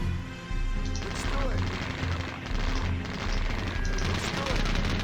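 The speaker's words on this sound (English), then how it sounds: "You can see him firing his pistol, or Colt M1911" Battle noise from the WWII strategy game Sudden Strike, with an American officer firing a Colt M1911 pistol amid a steady rumble of crashes and scattered shots, loud and dense throughout.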